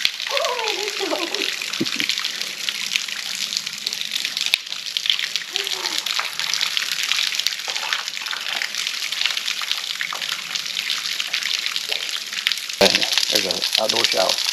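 A waterfall on Smith Lake in Alabama rushes and splashes continuously like a natural outdoor shower, a broad steady hiss close by with people talking and calling out over it.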